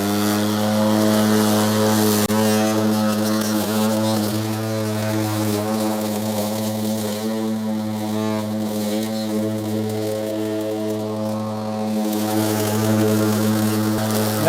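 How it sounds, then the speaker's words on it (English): A MOWRATOR S1 4WD 21-inch remote-controlled lawn mower runs with its blade spinning, a loud, steady droning hum with strong tonal whine, continuous and close, with no talk over it. "Blade starting."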